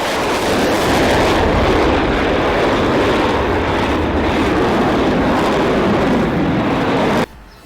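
Loud, steady broadband roar of a Boeing 747 coming in to land in strong wind, a continuous rushing engine and wind noise that holds for about seven seconds and then cuts off abruptly.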